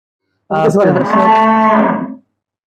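A single long, loud moo from a Fleckvieh-mix dairy cow at milking time, close by, rising and holding for well over a second before trailing off, with no other sound around it.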